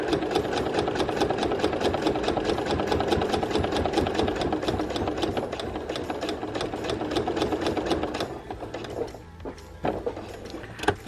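A sewing machine stitching a quilted coaster, running in a steady rapid mechanical chatter for several seconds, then slowing into short separate bursts of stitches near the end.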